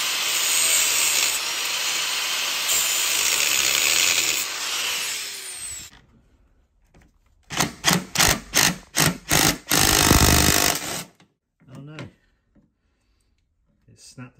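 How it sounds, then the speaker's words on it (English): Power grinder cutting a flat channel into a rounded-off cylinder head bolt on a classic Mini Cooper, a loud sustained grind for about six seconds, then a series of short rhythmic bursts after a pause, with a few faint clicks. "I'm going to try and grind like a flat sort of channel in there to get a flat bladed screwdriver in there"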